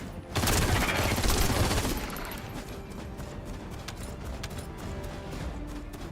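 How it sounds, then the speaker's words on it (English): A burst of rapid cannon-like booms and crackling blasts at the start, then scattered lighter impacts and mechanical clatter fading into a quieter rumble. "So those are cannons."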